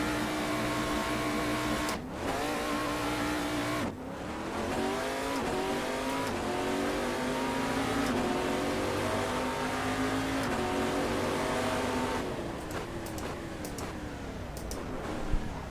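Race car engines at a race start in the Assetto Corsa sim, a dense, loud layered drone of many engines revving and rising in pitch together, with brief gaps and tire noise toward the end, no talk.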